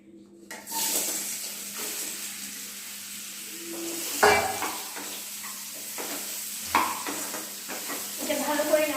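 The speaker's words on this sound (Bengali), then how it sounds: "এবার সয়াবিনগুলো ফ্রাই করবে।" Soybean chunks dropped into a hot pan start frying with a steady hiss and sizzle, broken by a few sharp clanks of a utensil against the pan in a home kitchen.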